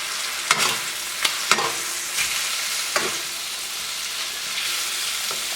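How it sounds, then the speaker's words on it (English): Chicken pieces browning in a hot pan give a steady sizzle and crackle, with a few sharp clicks of stirring or turning, close and without talk. "You're basically just going to let this cook, brown on one side."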